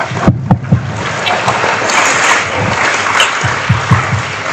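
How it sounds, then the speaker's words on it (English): Delegates at a diplomatic course session break into applause, a dense, loud clatter of many hands clapping close by, with a few sharper individual claps standing out, and no talk over it. "give a round of applause to us all"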